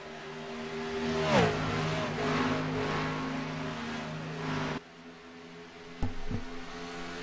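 Race cars lap a track: engine drones rise and fall as cars pass at a distance, with one sweeping pass-by, a sudden drop in level, then a sharp knock.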